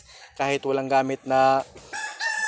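A backyard gamecock crows in several loud, drawn-out bursts close by, with someone speaking over and between the calls.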